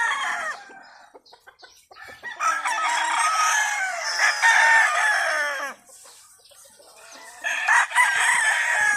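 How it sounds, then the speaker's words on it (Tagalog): Roosters crow loudly and repeatedly at a game farm in Canlaon, Negros Oriental, with long overlapping cock-a-doodle-doo calls and clucking from nearby fowl, close and continuous, with no voices. "Manok."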